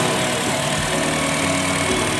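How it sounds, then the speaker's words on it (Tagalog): A used car's engine idles steadily nearby in Dubai, an even mechanical hum with a faint vibrating rattle and no one speaking. "Yan yung natural na tunog ng makina."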